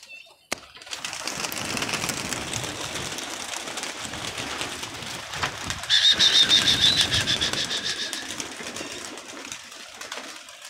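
Pigeons coo and flutter around a netted loft amid steady outdoor background noise, with a louder burst of bird sound partway through; no speech is heard.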